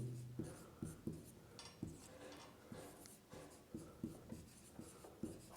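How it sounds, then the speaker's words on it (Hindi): Chalk or marker strokes on a board during a Hindi science lesson about water, a series of close, crisp scratching taps and short rubbing strokes in an uneven rhythm, with no talking over them. "मैं यहाँ पे लिख भी देता हूँ"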